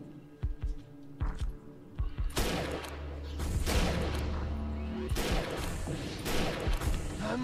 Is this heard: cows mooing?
no